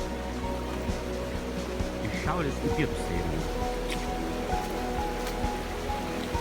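A small stream flows at a river crossing on the Kungsleden trail in Sweden, a steady broadband wash of water running throughout beneath someone talking.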